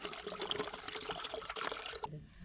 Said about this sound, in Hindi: तो सबसे पहले हम इसमें पानी डाल लेते हैं जग में।